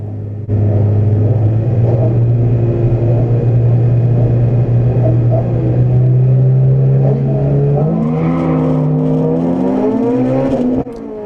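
A Honda Civic EK9 race car with a B18C engine launches at a race start at Castle Combe circuit, giving a loud, steady engine drone that rises in pitch as it accelerates and changes gear, heard close from inside.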